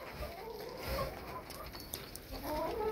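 Frizzle chickens cluck softly nearby in low, intermittent murmurs over a quiet, breezy background.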